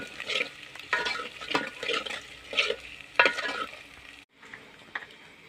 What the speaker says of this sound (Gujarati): દાણાને થોડીક વાર આપણે હલાવતા રહેવું, પાકવા દેવું તેલમાં